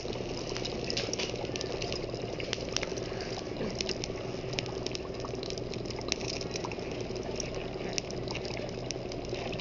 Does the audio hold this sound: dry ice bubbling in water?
yes